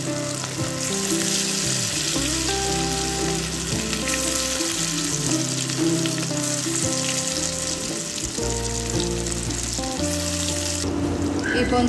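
Chicken 65 pieces deep-frying in hot oil in a home kitchen, a steady dense sizzle with bubbling crackle running continuously and fairly loud, with a brief change in texture near the end.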